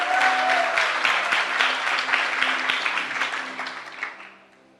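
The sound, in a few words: church congregation applauding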